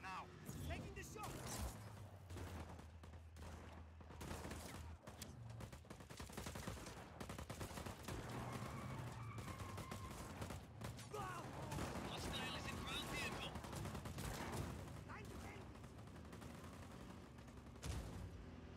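Video game gunfire, a dense stretch of shots and bursts, some heavier booms among them, running continuously under quiet in-game radio chatter.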